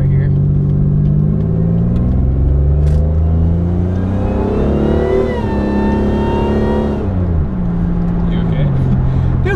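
A loud supercharged 2002 Pontiac Grand Prix GTP engine revs steadily, rising in pitch and then easing back down, with a continuous rumble throughout and a supercharger whine on top.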